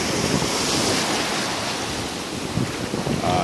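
Sea waves washing in at Back Beach in Vung Tau on a misty morning, a steady broad rush of surf with wind buffeting the microphone, loud and continuous.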